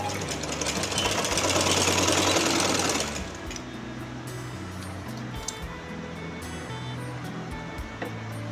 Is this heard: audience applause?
no